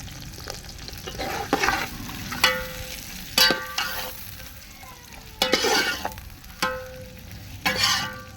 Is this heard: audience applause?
no